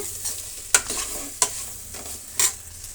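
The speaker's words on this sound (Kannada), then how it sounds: "ಬೆಳ್ಳುಳ್ಳಿನ ಫ್ರೈ ಮಾಡ್ಕೊಳ್ಳೋಣ ಈರುಳ್ಳಿ ಜೊತೆನೆ." Garlic and onions frying together in an oily pan for a bitter gourd ennegayi sambar. A steady sizzle runs throughout, broken by three sharp stirring scrapes against the pan, with no voices.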